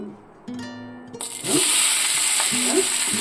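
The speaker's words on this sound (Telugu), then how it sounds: "బాగా చక్కగా మగ్గేటట్టుగా కొంచెం వేయించుకోవాలి వీటిని" Red chillies and onions drop into hot oil in a pan and burst into a loud, continuous sizzle with some stirring scrapes, after a quieter opening with faint tonal sounds.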